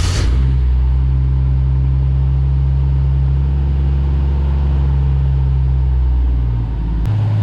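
Jeep CJ5 engine in a fuel tank leak repair, catching quickly and settling into a loud, steady, close idle rumble that runs for several seconds, with no talking over it.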